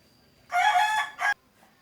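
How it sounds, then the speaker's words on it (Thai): A rooster crows once near a microphone, a loud drawn-out call followed by a short second burst, set against a quiet background. "ก็จะมีเสียงไก่มานิดนึงนะคะ"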